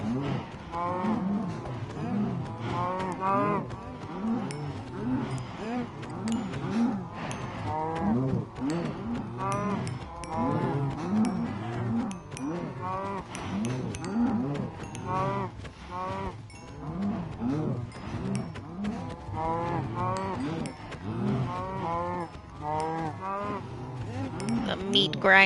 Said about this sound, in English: let's kill some more cows because we have